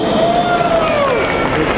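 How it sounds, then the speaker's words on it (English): Children's group at a Janmashtami celebration in Houston, a crowd cheering and applauding loudly and continuously after a performance, with a voice calling out over the noise. "All right, a big round of applause."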